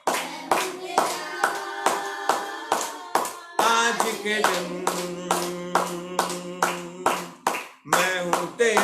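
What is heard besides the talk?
congregation clapping hands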